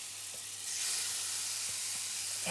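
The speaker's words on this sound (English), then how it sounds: "add a little bit of olive oil to a hot pan and throw that in. Right. Oh, good sizzle." Vegetables hit hot olive oil in a pan and sizzle steadily up close, a dense, loud hiss with small crackles and stirring, and no talking.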